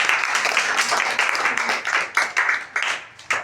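Children in a classroom clap together after a spelling competition answer, a burst of quick, uneven clapping lasting a few seconds with little talk.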